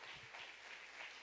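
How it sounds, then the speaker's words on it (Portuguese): A church congregation applauds during a worship service, a brief, steady and dense patter of many hands clapping, faint and distant with no clear voices. "E aplauda Jesus"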